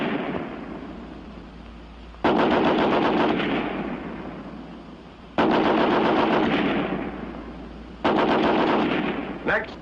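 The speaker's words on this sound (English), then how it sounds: "First, the American Light 30 on the bipod." An American Light .30 machine gun fires from its bipod in three long bursts of rapid, loud automatic fire, each burst separated by brief pauses with echoing decay outdoors.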